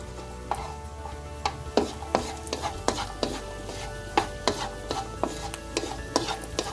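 Cashew nuts fry in oil in a wok while a utensil scrapes and stirs them, giving a soft sizzle under a series of sharp, irregular metallic clacks close by.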